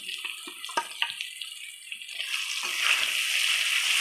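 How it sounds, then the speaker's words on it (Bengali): Water poured into a pan of fish curry cooking with turmeric, salt and ground spice paste, a soft splashing pour that builds into a steady close gush after a few light clinks. "এবার অল্প পরিমাণ জল দিয়ে দিচ্ছে"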